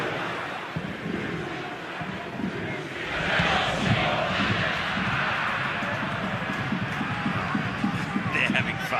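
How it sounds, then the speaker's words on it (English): A stadium crowd at an A-League football match between Perth Glory and Auckland FC chants and roars together, rising in volume and sustained throughout as a dense mass of voices. "Let's just take a moment to let the crowd do the talking."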